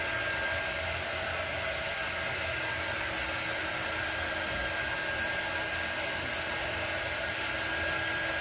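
A hair dryer runs steadily and loudly throughout, blowing on wet paint dabbed onto the eyes of a Dollar Tree bunny figure, a constant unbroken whoosh with no talking.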